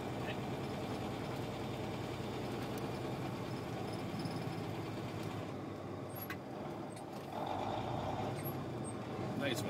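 Semi truck engine droning steadily while climbing an autumn hill road, downshifting gears with a brief dip in engine note, a continuous loud low rumble throughout.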